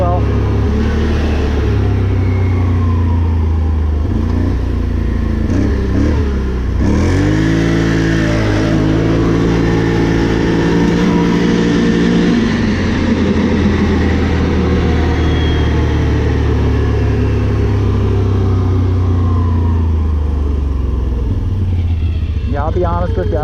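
A 2021 Can-Am Renegade 570 ATV with a new Dalton clutch spring accelerates hard in low gear, its engine droning and rising in pitch, surging midway, then holding a loud, steady roar up close.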